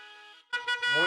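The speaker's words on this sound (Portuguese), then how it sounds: "Dá uma buzinada aí." Car horns sound at a drive-in church event, a sustained tone broken by a brief gap, then a second, louder blast that holds to the end.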